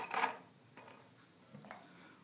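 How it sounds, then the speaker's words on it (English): Iron nails drop into a glass with a bright metallic clink, followed by two fainter, lighter taps as they settle, close and quiet with no voices. "Put some iron nails in this glass."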